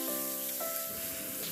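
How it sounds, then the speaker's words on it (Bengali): Potatoes and a fried katla fish head are sautéed with spices in a hot pan, giving a brief, close, steady sizzle and hiss with a few soft pops, no talking. "আমি খুব ভালো করে মশলাটাকে সাথে আলু আর মাছের মাথাটাকে খুব ভালো করে আমি কষিয়ে নিচ্ছি"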